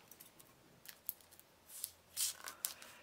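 Scissors snip in a few quick, crisp cuts, scattered and faint, with soft rustling between the snips.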